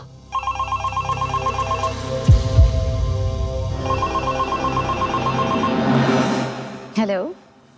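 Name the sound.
telephone ringing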